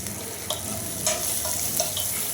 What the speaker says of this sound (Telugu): అల్లం వెల్లుల్లి పేస్ట్ కొద్దిగా 2 నుండి 3 టేబుల్ స్పూన్ వరకు ఇందులో వేసుకొని దాన్ని కూడా పచ్చివాసన పోయినంత వరకు కూడా బాగా కలుపుకొని వేయించాలి